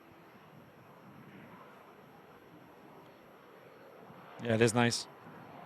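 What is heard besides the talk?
aircraft at Manchester Airport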